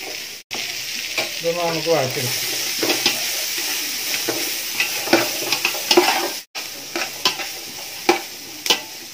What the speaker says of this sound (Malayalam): വഴച്ചെടുക്കാം. നമ്മൾ ചെറിയ രീതിയിലൊന്ന് വഴണ്ട് വന്നാൽ മതി.